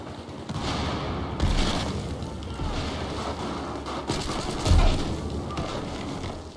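Gunfire in the video game Battlefield 4 during Domination mode, a dense stream of rapid shots and bursts with a couple of louder booms, fairly steady over the whole stretch.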